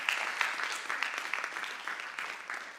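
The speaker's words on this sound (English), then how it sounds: "So let's give a round of applause for Maxime and the other speakers" Audience applause for speakers at an international conference on Mars, a steady wash of many hands clapping at moderate distance throughout, with no talk over it.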